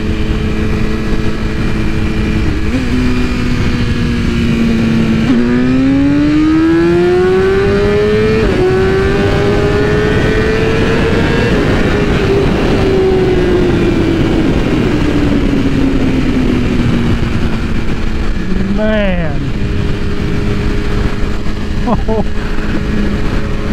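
A lowered BMW S1000RR sport motorcycle accelerates hard, its engine screaming loudly and close as the pitch climbs steeply through several gear changes, then settles back. Wind roars over the rider throughout.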